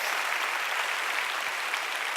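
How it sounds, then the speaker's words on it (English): Applause from the audience at the 2015 Hispanic Heritage Awards ceremony after a National Anthem performance, a steady, dense wash of many hands clapping at even loudness throughout. "a round of applause for that glorious rendition of National Anthem"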